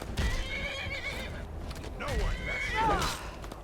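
A horse in the Skyrim video game neighs twice in drawn-out whinnies with hoof clops underneath, the calls fairly close and loud against steady game ambience, with a voice talking around them.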